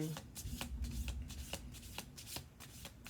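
Tarot cards shuffled close up: quick, crisp riffling bursts repeating at an irregular rhythm, with a quiet voice faintly underneath.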